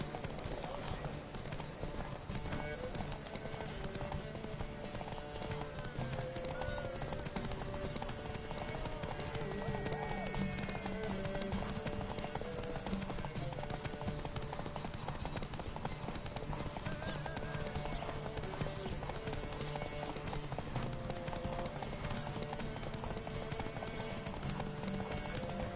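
The horse Roach gallops in a video game race, with steady rapid clip-clop hoofbeats and an occasional whinny running throughout, alongside continuous game sound and voices talking.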